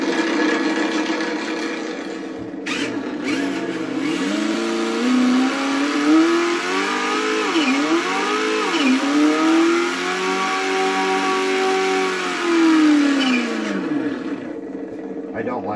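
A car engine running an uploaded custom sound profile revs up and holds a rising, roaring note for several seconds before settling, loud and steady with no talk.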